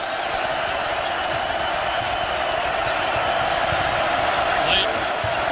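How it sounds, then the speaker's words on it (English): A basketball arena crowd cheers at a Florida Gators versus Alabama Crimson Tide college game, a dense, steady roar of voices holding at constant loudness throughout. "Crowd is come alive."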